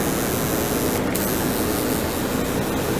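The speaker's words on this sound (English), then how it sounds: "I'm gonna go under the bottom first and start spraying the bottom." A spray gun applies powder coat to truck wheels, giving a steady, loud hiss of rushing air that holds without a break, with no voices present.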